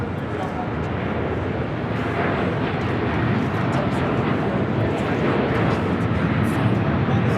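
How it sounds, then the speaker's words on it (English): Delta Airlines Airbus A321 arriving from Detroit at LAX, a steady broadband jet roar holding at a constant loud level throughout, with voices talking faintly beneath it. "Next arrival here on the north side is Delta Airlines Flight 694 coming from Detroit,"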